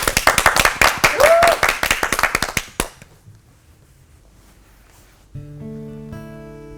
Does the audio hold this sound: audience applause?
yes